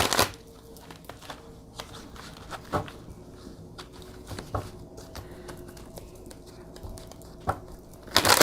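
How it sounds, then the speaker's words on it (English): Tarot emotion cards being shuffled at close range, soft papery riffles and taps scattered across a quiet room, with a louder rustle at the end. "Let me just get some emotion cards."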